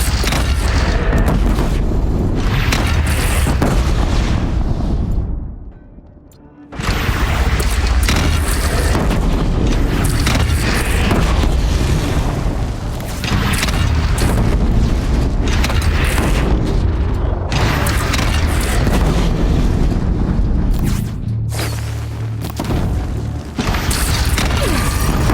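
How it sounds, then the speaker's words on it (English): Cannon fire and explosions from a bandit clan battle in the video game Horizon Zero Dawn: loud, dense booming blasts and mechanical clatter run almost continuously, with a short lull partway through. "They only have one cannon!"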